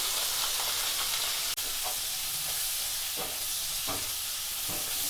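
Paneer, 200 grams, frying lightly in a spoonful of butter for shahi paneer: a steady soft sizzle with hiss and occasional stirring scrapes, close and continuous, with no voices.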